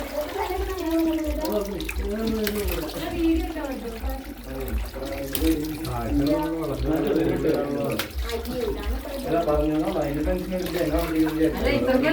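Water flows in at a refill spot by Ilaveezhapoonchira as a steady rushing stream, partly masked by people talking close by throughout.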